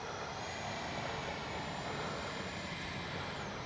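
A Freewing F-22 70mm EDF radio-controlled jet flying past with retracts and landing flaps down: a constant high, hissing ducted-fan whine over wind noise, fairly faint and steady throughout.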